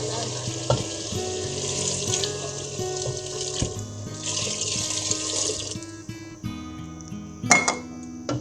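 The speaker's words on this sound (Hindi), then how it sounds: "पानी मैंने गर्म कर लिया, तो अब पानी डालते हैं इसमें" Heated water poured into a cooking pot of aloo gosht, a potato and meat curry, gives a steady splashing rush with a sizzle from the pot, brief clinks near the end, and no talk.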